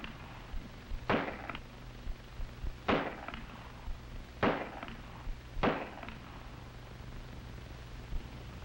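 Four sharp gunshots crack out at an FBI firearms range, spaced roughly evenly about one and a half seconds apart, each followed by a brief echoing tail over quiet background.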